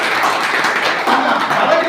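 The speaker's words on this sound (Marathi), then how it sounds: "याचं टाळ्या वाजून तुम्ही स्वागत केलं पाहिजे" An audience at a legal services day event gives a short burst of steady, dense clapping, fairly loud and continuous from start to end.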